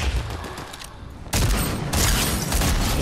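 Video game gunfire aimed at a rock rattles out in dense bursts, loud and close, with a brief quieter gap before the shooting resumes harder.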